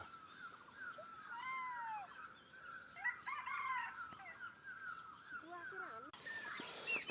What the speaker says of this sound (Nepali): बाँसघारीतिर जङ्गलतिर चरा चुरुङ्गीहरू हरर कराउँदैछन्